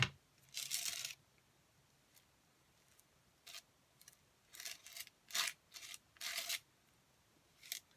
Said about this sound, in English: That scraping noise is the glitter in it.